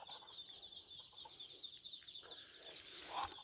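A rooster and hens cluck faintly in a backyard flock among turkeys, soft intermittent calls over a thin high-pitched background hum.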